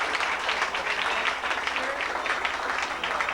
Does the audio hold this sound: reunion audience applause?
yes